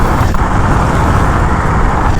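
Ultron T128 dual-motor electric scooter ridden fast on a highway in mode 3, a loud, steady roar of wind and road noise that drowns out everything else.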